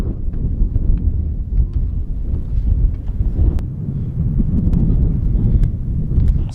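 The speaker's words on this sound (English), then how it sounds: "It is incredibly windy up here." Strong, gusting wind buffets the microphone on a mountain top in upstate New York, a loud continuous low rumble with no speech.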